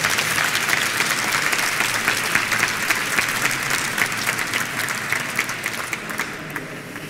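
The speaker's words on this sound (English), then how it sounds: "Please a warm applause." A conference audience applauds a speaker at a talk on phone phreaking history; continuous, fairly loud clapping across the whole stretch, tapering slightly at the very end.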